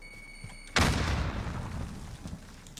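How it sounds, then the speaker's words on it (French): A grenade detonates in a battle royale video game, a single sudden loud boom followed by a long rumbling decay with debris-like crackle that fades over two seconds, no talking over it. "Je lance une grenade."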